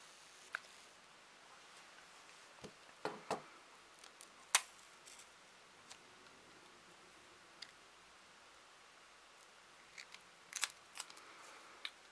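Scissors snipping clear adhesive tape for a battery-box label, a few sharp isolated clicks and cuts scattered over a quiet background, some in quick pairs.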